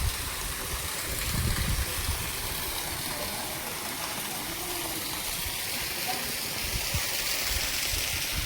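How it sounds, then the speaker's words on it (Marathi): Steady spring water pours continuously at the Gomukh outlet beside a salt-water crater lake, a broad, even rushing wash that holds constant from start to finish with faint murmurs in the background. "ही धार नेहमीसाठी चालू असते असं म्हणतात."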